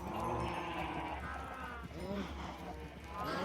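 Sheep in Minecraft bleat several times in quick wavering calls over steady game background noise and a low rumble, with a person talking through it.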